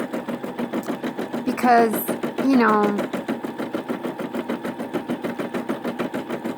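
Brother SE600 embroidery machine stitching a quilt, its needle hammering in a fast steady rhythm close by throughout, with a person talking briefly over it.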